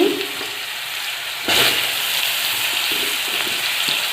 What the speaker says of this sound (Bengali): তারপর দেখুন আমগুলো দিয়ে দিচ্ছি।